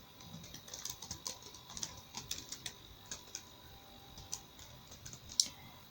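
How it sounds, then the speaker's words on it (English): Someone types a name on a computer keyboard: a quick, irregular run of light key clicks, close and fairly quiet, with one sharper tap near the end and no talking. "let us first of all start by typing our name."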